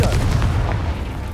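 A Confringo blasting spell goes off in Hogwarts Legacy, giving a loud, dense burst of booming, gunfire-like bangs that keeps rumbling for just over a second.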